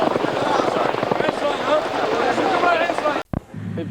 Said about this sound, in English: I got the Chinook on, sir.